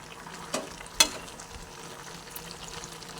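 Bottle gourd cooks in its own water in a pan while a utensil stirs it, giving a low sizzle and a couple of sharp scraping clicks. The sound is close and quiet, with no talking.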